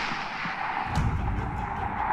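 Distant gunfire in Rise of the Tomb Raider, a muffled low boom or two rising over a steady ambient background, faint and brief.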